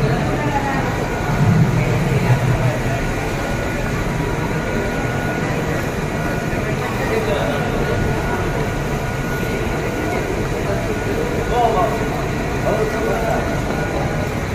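Mumbai CSMT railway station at night, with local trains standing at the platforms, fills the space with a loud, steady hum of engines and ventilation, and faint voices drift in the background.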